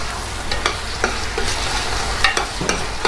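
Fried eggplant chunks being mixed with onions in a pan, producing a steady sizzle with repeated scraping stirs of the spatula, close and fairly loud, no voices.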